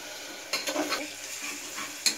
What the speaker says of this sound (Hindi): इसे हम तब तक फ्राई करेंगे जब तक जिंजर और गार्लिक का रॉ स्मेल ना चला जाए।